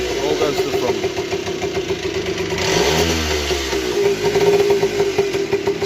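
A Tomos AT50 moped's small engine runs close up, idling with a steady buzz and rising briefly in a quick rev midway before settling back.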